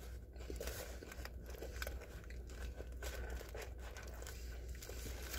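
Sonic gochos snack bitten and chewed up close: faint crunching and crinkling at low volume against a low background rumble, with no talking.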